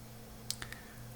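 Computer keyboard typed on during coding, a few quick faint key clicks in a short burst over a low steady hum, no talking.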